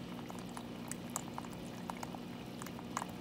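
Water runs through sediment on a stream table, a soft continuous trickle and bubbling with small patters and gurgles, quiet and close, with no talking.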